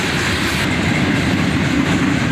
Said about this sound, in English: This was another monster manifest that just kept going and going.